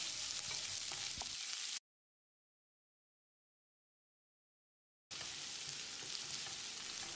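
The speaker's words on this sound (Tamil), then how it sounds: "வெங்காயத்தை கண்ணாடி பதத்துக்கு வதக்கிடலாம்." Sliced onions and curry leaves fry in a pan with a loud, steady sizzle, cut off by a silent gap before the same continuous frying noise resumes.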